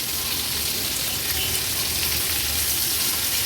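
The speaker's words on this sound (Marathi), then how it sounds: "आपण ही कालवं फ्राय करत ठेवली होती" Oysters (kalva) frying in oil in a pan, Agri-Koli style, a steady close bright sizzle and crackle that runs evenly throughout with no talking.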